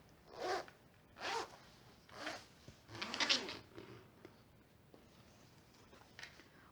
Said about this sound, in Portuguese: eu vou alinhar o zíper e passar um cursor